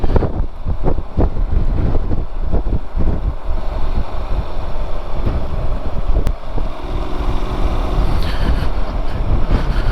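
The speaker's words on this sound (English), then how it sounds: "a little bit of tail braking through the bends, and it's all about throttle control going through the bends with this bike" A Honda NC750X motorcycle with a DCT gearbox rides through bends, a low engine drone buried under heavy wind buffeting and rumble, loud and continuous with no speech.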